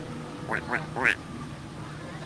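A duck at a Disney Animal Kingdom park quacks three times in quick succession, fairly close, over steady crowd murmur and background chatter.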